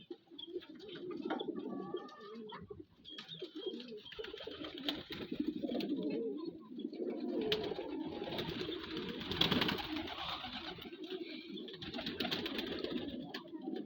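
Homing pigeons, including young birds perched in a loft, coo steadily in low rolling murmurs, several birds overlapping close by with faint rustling and occasional higher chirps.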